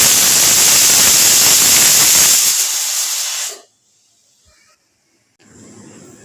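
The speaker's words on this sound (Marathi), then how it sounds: "पाच शिट्ट्या झालेल्या आहेत कुकरच्या।" A pressure cooker cooking dal gives off a loud, steady hiss of escaping steam for about three and a half seconds, then cuts off abruptly into near silence, followed by a faint background rustle.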